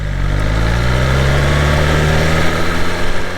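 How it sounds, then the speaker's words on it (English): Steady running of a BMW S 1000 XR motorcycle's inline-four engine, a continuous low droning hum held at a constant level throughout, with no talk. "it's a S1000 engine, so it's an inline 4"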